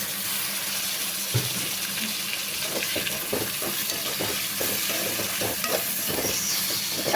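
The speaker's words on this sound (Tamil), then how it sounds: "இப்போ இது கூட தக்காளி பழம் சேர்த்துக்கலாம்" Tomatoes added to chicken frying in a pan and stirred, with continuous sizzling and repeated scraping, clattering stir strokes throughout.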